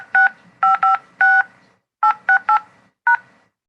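Telephone keypad tones entering a meeting ID: eight crisp, loud dual-tone beeps in irregular groups, some in quick pairs, with short gaps and silence between, no speech.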